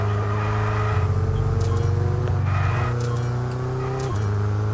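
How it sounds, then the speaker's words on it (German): Formula 1 car engine in the F1 22 racing game, a loud, continuous high-revving drone with steady harmonic whine and brief shifts in pitch, sustained throughout. "der Sound ist unnormal geil von dem Auto"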